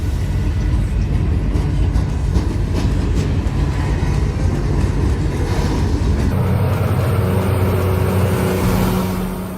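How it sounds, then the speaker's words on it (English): A rail grinding train rumbles past with a loud, sustained grinding roar and metallic rasp, steady throughout before the tone shifts near the end. "In my opinion, it's a rail maintenance train, rail grinding."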